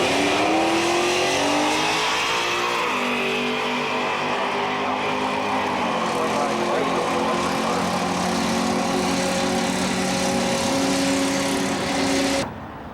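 An electric drag racing car in a 1999 NEDRA electric drag race runs down the track, a loud sustained motor whine with rising and shifting tones over steady roar, cutting off abruptly near the end.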